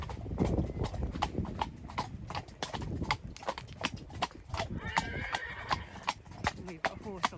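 A horse clip-clops at a steady walk while ridden bridleless along a meadow path, hoofbeats close and regular, with a neigh in the mix and a rider talking over the steps.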